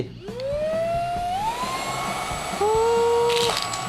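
A Deerma VC20 Pro cordless vacuum cleaner, the upgraded 2021 model, spins up with a rising motor whine, settles into a steady high hum, then jumps to a louder, higher pitch partway through.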